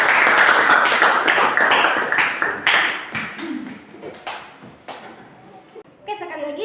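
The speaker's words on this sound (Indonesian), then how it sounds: "beri aplaus untuk teman kalian berdua" Students in a classroom clap for two classmates, a thick patter of hands that starts strong and thins out over a few seconds, with voices chattering over it.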